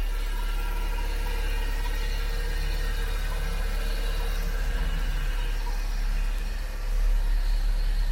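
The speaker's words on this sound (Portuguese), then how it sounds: "Enquanto o motor está em funcionamento aí" Car engine idling steadily in a workshop while the owner waits for the electric radiator fan, a constant low, even hum with no talk over it.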